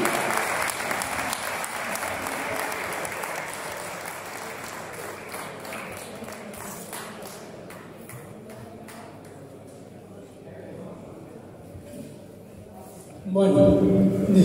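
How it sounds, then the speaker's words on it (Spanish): Applause for a man's son at a Spanish-language ceremony honoring a brother, steady crowd clapping filling the room for most of the stretch, thinning toward the end before a louder burst of sound closes it. "Un fuerte aplauso para él"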